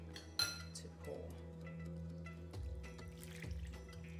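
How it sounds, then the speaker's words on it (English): Sauce poured over stacked kafta in a Lebanese-style dish, a soft, steady liquid trickle with a single sharp clink near the start, close and quiet, with no talking. "And then we're going to pour that over our kafta stacks."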